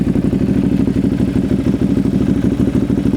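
A motorcycle engine with a baffle fitted in its exhaust starts and runs with a loud, close, rapid pulsing rumble that stays steady throughout.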